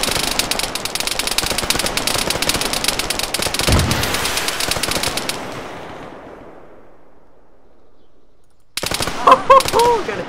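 Sustained automatic gunfire from an ArmA 3 convoy ambush battle, dense rapid bursts for several seconds that fade into a quiet tail, then more firing and a brief voice near the end.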